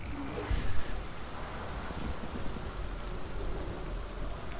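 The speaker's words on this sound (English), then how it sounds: "Now that we can hear the rain, right?" Steady, even rainfall in the video game Detroit: Become Human hissing continuously, with a soft low rumble underneath and no voices.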